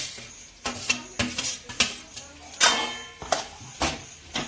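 A spoon stirs a thick pav bhaji mixture of peas and potatoes in a metal pot, giving a series of loud, irregular scraping clanks and knocks against the sides, close up with no talking.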